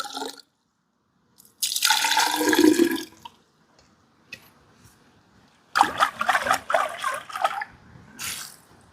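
Water splashes and pours over bamboo pieces in a few separate bursts, washing them, with quiet pauses and faint drips between them.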